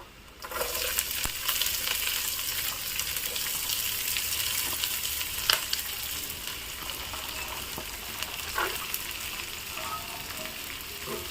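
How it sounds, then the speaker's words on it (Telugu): Finely chopped vegetables sizzle and fry steadily in a hot pan for chicken fried rice, a loud continuous crackling hiss with occasional scrapes of stirring, no voices. "వెజిటేబుల్స్ అన్నిటినీ వేగనివ్వాలండి బాగా"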